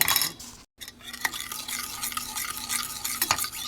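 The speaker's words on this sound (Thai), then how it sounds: "เมื่อนมเริ่มเดือดวุ้นละลายดีแล้วใส่น้ำตาลทรายลงไป แล้วก็ คนต่อ" Spoon stirring a pot of boiling milk with dissolved agar and added sugar, a steady close swishing with light scrapes against the pot and faint bubbling, continuous apart from a brief gap, no talk.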